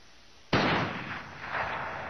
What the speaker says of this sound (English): a gunshot had been heard coming from inside the bulldozer